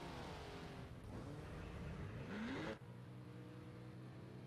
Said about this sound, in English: Hopefully those cars are sounding a little bit louder now.